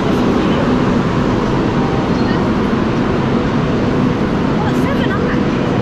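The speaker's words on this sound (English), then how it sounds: "This is our first time ever on a bullet train." Steady, loud rumble and rushing hiss inside a carriage of a Chinese premier-class bullet train, a continuous broadband roar with no breaks.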